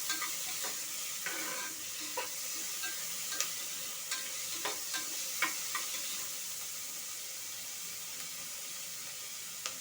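Steady sizzling of onions frying in a pan, with a spoon scraping and stirring in irregular clicks over the constant crackle.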